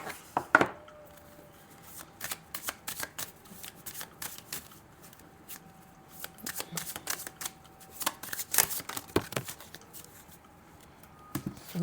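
Tarot cards are drawn and handled from a deck, giving a run of quick papery flicks and shuffles in irregular bursts, close and clear, with no talk.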